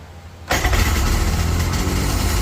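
A two-stroke engine fires up right after its magneto housing and flywheel were overhauled and the starter bendix changed, catching abruptly and settling into a steady, loud, close-up run with no talk.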